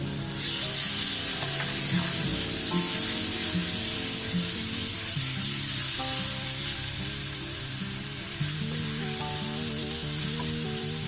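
Minced garlic sizzles steadily in hot oil in a pan for a Chinese-style steamed eggplant with bacon, a loud, continuous close-up frying hiss with faint stirring scrapes, and no one speaking.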